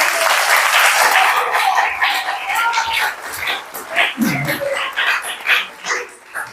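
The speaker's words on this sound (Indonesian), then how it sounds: "Tepuk tangannya lagi." Applause from the audience at an Islamic study gathering starts strong and thins into scattered, uneven claps. A few brief vocal sounds cut in near the end.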